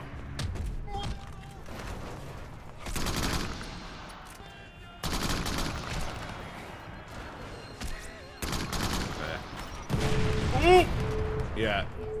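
Shotgun blasts ring out in the video game Crackdown, several loud separate bursts spaced a second or two apart over steady game noise, with a voice talking between shots.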